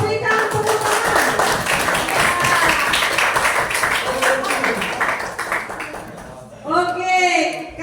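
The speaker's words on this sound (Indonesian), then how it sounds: "terima kasih kepada seluruh kelompok, berikan tepuk tangan." Students in a classroom clap for discussion groups after a taxation lesson presentation, a fairly close, brisk round of clapping that fades out, followed by a teacher's voice speaking.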